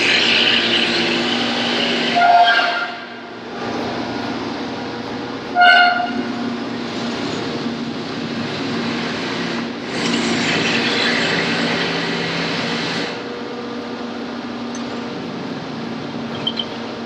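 A grinding wheel runs with coolant flowing, taking a knife blade down to dimension a couple thousandths at a time in a jig moved back and forth after heat treat; a steady broadband rushing whine with brief louder swells and no talk.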